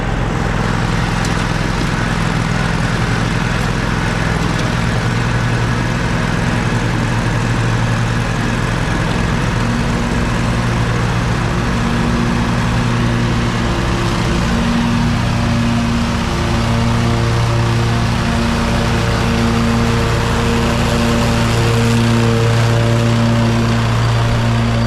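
A riding lawn mower runs continuously with a loud, steady engine drone close by, holding an even pitch with slight shifts in tone as it moves, no talk over it.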